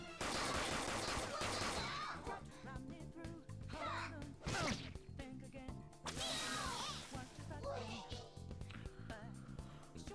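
Gunfire in a Persona 5 Royal battle, rapid bursts of shots and a fusillade over game music and effects, with voices talking through it.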